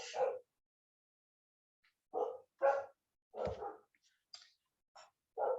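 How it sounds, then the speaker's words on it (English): Several dogs bark in separate bursts at a moderate distance, with short pauses of silence between the yaps. "So the dogs are just making a bit of a noise there."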